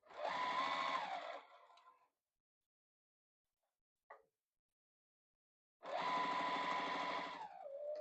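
Sewing machine stitching hand warmer fabric scraps: two loud close bursts of rapid mechanical stitching separated by a quiet pause with one small click, no talk.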